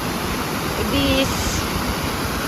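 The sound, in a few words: waterfall roaring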